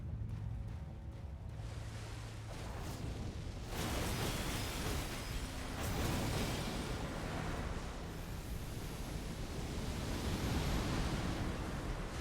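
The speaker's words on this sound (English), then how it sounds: "that was the explosion" An explosion in Elden Ring sounds as a sustained, roaring wash of broadband rumble that swells partway through and keeps churning for several seconds, heard alone with no talking.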